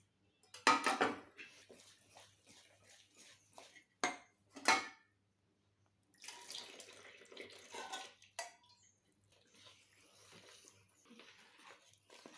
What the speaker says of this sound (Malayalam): കട്ട കെട്ടാതെ ഇളക്കിയെടുക്കാം